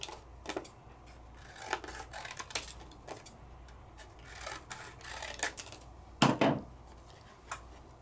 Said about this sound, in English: Trim this out to what you want it to be.